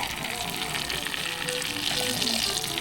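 Melted butter sizzles steadily in a pan while maruya banana fritters fry, a continuous dense crackling hiss with no pauses throughout.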